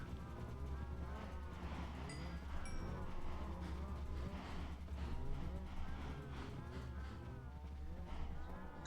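Cows mooing in Minecraft, many overlapping low moos from a crowd of cattle packed into an enclosure, steady and close, with occasional chimes.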